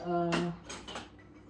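Metal cooking pots clank and scrape as they are handled in a storage space under a kitchen counter, with one sharp ringing knock early and then softer rattles and shuffling.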